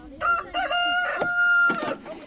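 Hens kept by a town to eat food waste crow and cluck in several loud, close bursts, with no talk over them.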